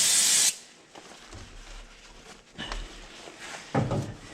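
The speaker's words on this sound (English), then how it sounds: "spray a little bit of brake cleaner on a paper towel here." A short, loud burst of brake cleaner aerosol sprayed onto a paper towel, hissing for about half a second, followed by quieter handling noises and a couple of soft knocks.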